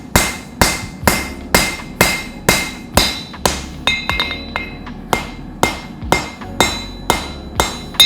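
Steel is hammered on an anvil while a Damascus kukri is forged: loud, evenly spaced ringing blows, about two each second, with a brief stretch of lighter, quicker taps partway through.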